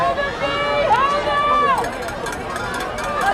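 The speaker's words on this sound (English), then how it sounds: "A lot of crowd noise. Get a lot of background noise." Crowd noise at a football game, a broad steady roar of many voices with whistle-like rising tones early on and a clatter of rapid pulses later, heard beneath a radio announcer's talk.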